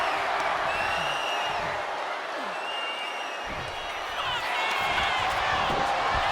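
A wrestling arena crowd roars steadily during a match between AJ Styles and Pete Dunne, a broad continuous wash of cheering with scattered whistles and shouts that swells slightly toward the end.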